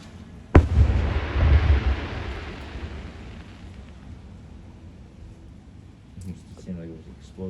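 Fireworks at the Lewis County Fair go off with one sharp, loud boom, followed by a long rumbling roar that slowly fades; faint voices of the crowd come through near the end.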